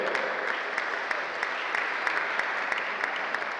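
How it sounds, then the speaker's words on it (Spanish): Steady, dense applause from a crowd honouring young third-division football players in Nuevo Laredo, sustained at an even level throughout with crisp individual claps. "El aplauso fuerte también para ellos"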